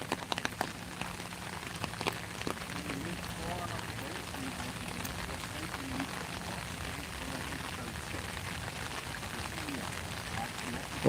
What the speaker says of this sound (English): It's all wet and raining.